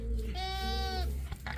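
A single drawn-out bleat from a sheep or lamb, close and clear, with a brief second call at the end.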